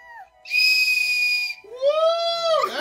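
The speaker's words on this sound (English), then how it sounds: "Whoa, it's a whistle." A small plastic toy whistle from a surprise egg is blown twice, close and loud: a long shrill steady tone, then a second warbling blast that bends in pitch.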